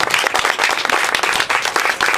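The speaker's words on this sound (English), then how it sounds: "Let's give him a big round of applause." Dense applause from an audience at the opening of a digital education learning lab, steady and loud throughout with many hands clapping at once.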